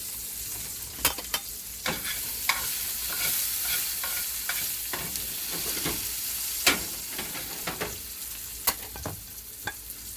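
Wide zucchini planks fry in an oiled pan with a steady close sizzle. Sharp crackles and pops from the hot oil break through now and then.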